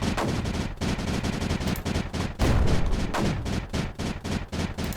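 Rapid mortar barrages in the video game Creeper World 4, dense repeated bursts of gunfire-like thuds, loud and close, running continuously with a heavier cluster midway.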